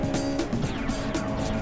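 A Honda Type R car engine roaring loudly and continuously at high revs up to 8,500 rpm, a strained, buzzing drone close by with slight pulsing.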